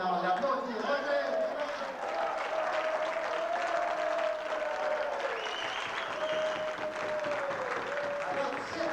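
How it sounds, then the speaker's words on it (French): Sustained applause from a crowd, steady and dense, with a voice or whistle-like tone rising above the clapping throughout. "Mais on l'applaudit."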